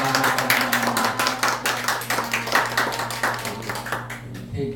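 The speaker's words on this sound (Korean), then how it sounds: "지금 축하를 못해드렸으니까 박수로 생일 축하합니다." A church congregation claps together to celebrate a birthday, a close, moderately loud run of rhythmic clapping with distinct beats that stops near the end.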